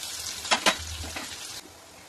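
Sliced onions sizzle in hot oil in a pan with fennel seeds, bay leaf and dried red chillies, giving a soft, steady frying hiss with a couple of brief crackles, fairly quiet and heard alone.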